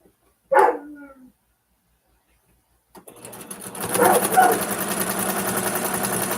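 A puppy gives one short, close bark, followed by a pause and then the steady whirring rattle of a sewing machine running.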